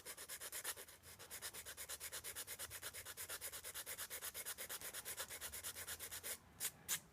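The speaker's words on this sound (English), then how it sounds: "I just used these sanding sticks to get me to the line." Sanding sticks rub back and forth on a wooden excavator model in a fast, even rhythm of close, soft scrapes, with a few heavier strokes near the end and no talk.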